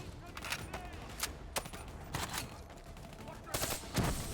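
Short bursts of gunfire from a burst weapon in the video game Call of Duty: Black Ops III, several quick clusters of shots at moderate level over steady game background noise.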